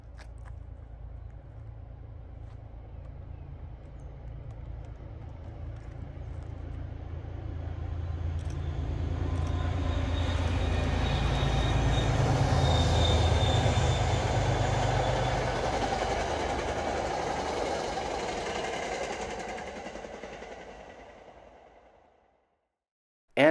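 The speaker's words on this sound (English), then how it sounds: "Here is train 101 at the Babson Reservoir in Gloucester, Massachusetts" An MBTA commuter train, number 101, passes at Babson Reservoir in Gloucester, Massachusetts. A low rumble builds, peaks loudly at mid-pass, then fades into the distance and ends in silence.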